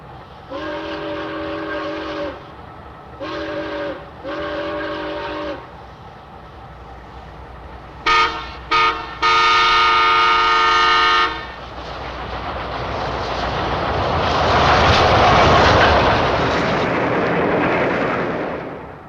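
A passenger train, Train 406, sounds its horn in several long and short blasts, loud and near, then rumbles past in a swelling roar of wheels and cars.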